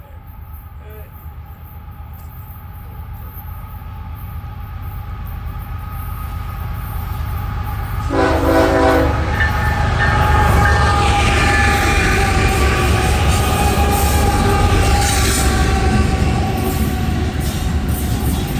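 A freight train hauled by two LNG locomotive sets rolls past at night, its rumble growing louder and closer before a strong horn blast sounds midway, then a steady heavy roar of passing cars continues.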